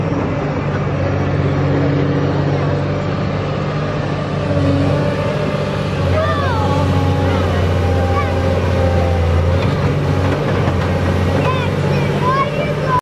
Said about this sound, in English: the tractor that's building our house? Or digging our hole.